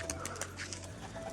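Rajshahi pigeons coo close by, a brief soft run of low throaty calls repeating over a faint steady background hum.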